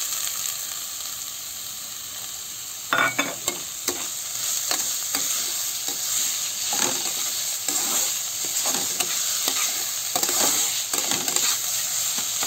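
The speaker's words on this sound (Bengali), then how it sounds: "আমি দিয়ে দেবো এই যে পেঁয়াজ কুচি।" Chopped onion fries in hot oil with a continuous close sizzle, broken by repeated scraping and clinking taps as a spoon stirs it around the pan.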